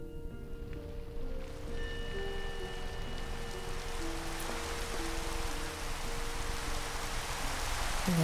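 Steady rain falls outdoors, a dense even hiss of drops that stays loud and continuous throughout, with a faint low tonal hum underneath and no voices.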